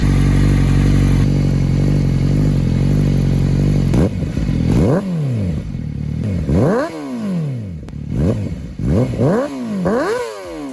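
A 2021 Honda CBR1000RR-R Fireblade SP engine, rebuilt after a wreck, idles with a deep rumble, then revs sharply several times in quick bursts, rising and falling, loud and close.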